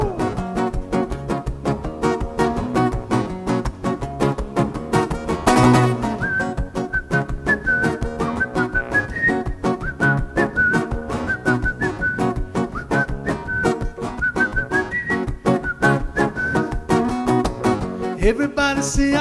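A person whistles a song melody at a Mother's Day studio show, a long clear tune carried alone over a steady accompaniment, close and prominent throughout.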